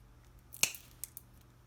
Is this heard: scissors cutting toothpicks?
yes